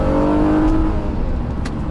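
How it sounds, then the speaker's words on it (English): A 2014 Honda Accord V6 with a Ktuned setup in sport mode accelerates hard at full throttle, its engine droning loud and steady from close inside the car with no talk over it. "Floor it, it's instant."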